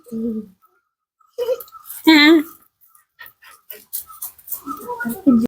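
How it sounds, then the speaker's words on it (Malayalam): Puppies let out short whimpers and a higher yelp, scattered among soft human chatter and pauses. "ഇത് ജോണി അല്ലേ രണ്ടുപേരല്ലേ മോളൂസ് ഇവിടെ പട്ടിക്കുഞ്ഞികള്"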